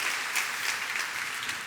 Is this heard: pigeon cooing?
no